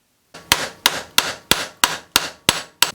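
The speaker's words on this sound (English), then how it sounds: "let's take this hammer apart" A jewelry hammer being knocked apart for restoration, eight sharp, evenly spaced metallic strikes ringing out loud and close, each with a short decaying tail.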